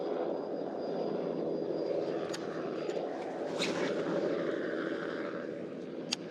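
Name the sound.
helicopter flying over a lake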